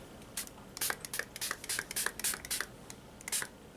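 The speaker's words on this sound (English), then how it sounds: "Remember to close your eyes before you spray" e.l.f. Makeup Mist and Set setting spray is pumped in a rapid series of about a dozen short, hissing spritzes, close by and fairly soft.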